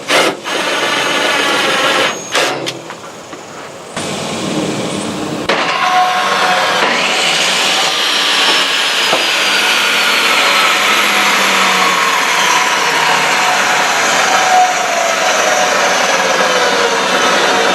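A repaired Ridgid table saw motor starts with a few clunks and short bursts, then runs up into a loud, continuous whine that holds steady, close by and without talking.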